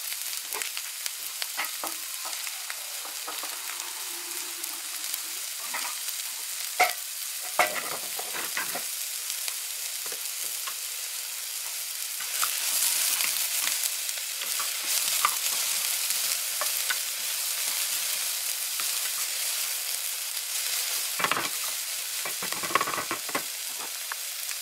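Onions fry in oil in a pan on a gas stove, a continuous soft sizzle and crackle with occasional louder bursts as they are stirred, no speech.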